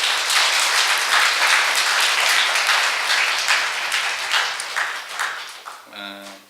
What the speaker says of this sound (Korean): 다시 한번 우리 영광의 박수를 한번 드리겠습니다